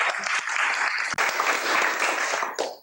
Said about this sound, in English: Kindly give him a big round of applause.